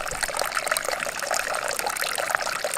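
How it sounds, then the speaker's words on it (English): Water flowing from a LifeSaver jerry can filter after a push and quarter turn of the tap, a steady trickling stream pouring continuously at close range with no talk over it. "you're going to see the water starts flowing"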